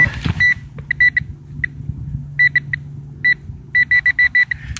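An electronic metal detector emits repeated high-pitched beeps in short bursts and clusters over a low hum, close and loud.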